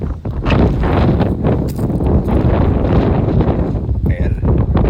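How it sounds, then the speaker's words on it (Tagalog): Strong gusts blast across the microphone outdoors at a strawberry farm, making a loud, continuous rumbling roar with short flutters, and a voice is faintly heard under the wind. "Lakas ang hangin."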